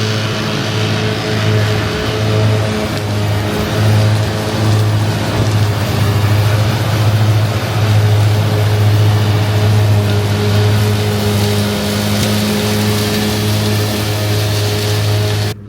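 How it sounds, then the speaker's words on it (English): Loud and continuous, a tractor pulling a set of mowers cuts grass for first-cut silage across a rough field, its steady engine drone and humming harmonics joined by a broad rushing noise from the cutting. "How about that for a set of mowers?"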